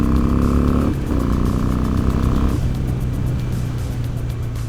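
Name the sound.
Harley-Davidson motorcycle overtaking a car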